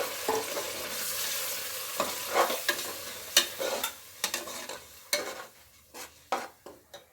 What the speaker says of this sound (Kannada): ಮಸಾಲೆ ಎಲ್ಲ ಒಂದು ಸ್ವಲ್ಪ ಚೆನ್ನಾಗಿ ಬೇಯಲಿ ಇದು ಎಣ್ಣೆಲಿ.